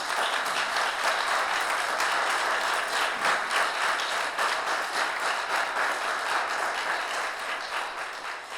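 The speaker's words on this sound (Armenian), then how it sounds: "եկեք ծափահարենք հայրերին" An audience applauds the fathers in a hall, a dense, sustained burst of clapping lasting several seconds that fades slightly at the end.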